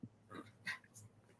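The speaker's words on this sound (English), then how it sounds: "What kind of little dogs you got? I keep hearing barking." Small Yorkie dogs bark faintly in the background, a few quick yaps spaced across a second and a half, distant and quiet beneath room noise.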